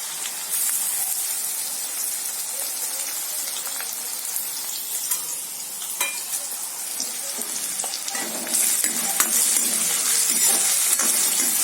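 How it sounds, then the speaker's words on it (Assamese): Ginger-garlic paste frying with onions in a pan for an egg curry, a continuous close sizzle with stirring scrapes that swells louder near the end, no talking. "এইখিনি অলপ সময় আদা নহৰুখিনি ভাজি ল'ম।"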